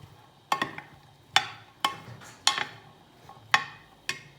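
Boiled black-eyed peas and peas being stirred into a corn chaat, heard as about seven sharp clinks and scrapes of a spoon against the bowl at uneven intervals, close and moderately loud, with no talking.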